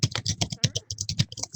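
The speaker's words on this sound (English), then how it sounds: "I hear some typing" Rapid typing on a computer keyboard comes through an online webinar call as a close, irregular run of crisp key clicks, heard alone without talk.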